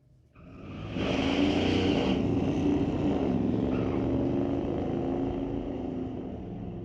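Drag race between a Ford Mustang and a Pontiac Firebird on a street-legal drag strip: engines roar loudly and steadily for several seconds after a quick rise, a sustained wide-open rumble with no talk.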